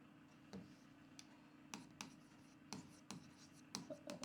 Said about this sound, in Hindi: तो ये मैं यहां पर ग्राफ खींच रहा हूं